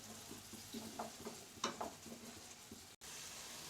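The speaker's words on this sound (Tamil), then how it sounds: "இதையும் நல்லா வதக்கிடணும்." Ground masala paste frying in a pan for a homemade meal maker biryani, a soft, faint sizzle with light stirring taps and scrapes, close by and quiet, with a brief cut near the end.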